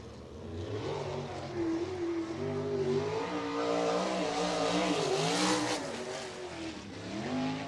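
A sprint car laps a red dirt oval at a USAC race, its engine note rising and falling in a loud continuous whine as it brakes into and powers out of the turns.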